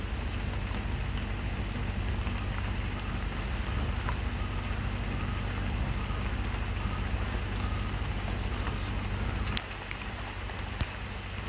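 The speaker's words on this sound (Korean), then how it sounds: "비 내리는 소리가 듣기 좋아서 저도 자꾸 말을 하다 말고 멍하니 빗소리를 듣게 되네요" Rain falls outdoors in Manaus, Brazil, in the Amazon at an open-air museum lookout: a steady, dense hiss with no voices, briefly softening near the end with a few sharp clicks.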